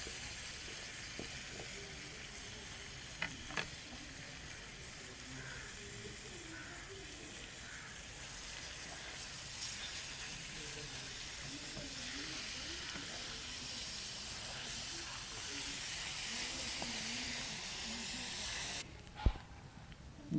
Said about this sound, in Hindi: अभी जो कीमा बना के रखा है चिकन का वो डाल देंगे।